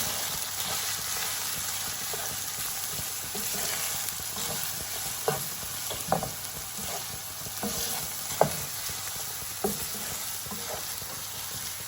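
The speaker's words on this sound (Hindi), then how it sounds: "और साथ ही मैं इसमें चॉप प्याज जो है वो भी डाल दिया है मैंने।" Chopped onion fries in a pan with a steady, moderate sizzle close by, broken now and then by soft scraping and tapping of a spoon stirring, with no voices.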